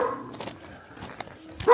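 A dog in Nepal barks a few times at a person, sharp scattered barks with a louder, closer one at the end, over a quiet outdoor background.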